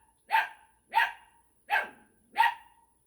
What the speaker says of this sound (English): We're going to see if the dogs start barking